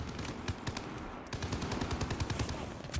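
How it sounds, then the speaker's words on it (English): Rapid bursts from the Welgun submachine gun in Call of Duty Vanguard, a steady rattle of close, punchy shots that runs for the whole stretch with only a brief break. "the Welgun's actually pretty nasty. I think it's honestly one of the best SMGs in Vanguard"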